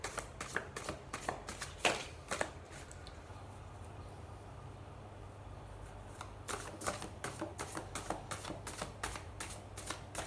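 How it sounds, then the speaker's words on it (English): Tarot cards are dealt and shuffled by hand, making close, crisp flicking and snapping sounds in quick bursts, with a quieter stretch in the middle before a rapid run of card flicks. "I'm dealing out all the cards I'm going to read"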